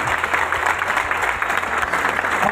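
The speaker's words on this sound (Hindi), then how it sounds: "तो आप लोग जोरदार तालियां बजाएंगे" An audience claps at a business coaching event, a dense, continuous burst of applause from many hands at a steady level.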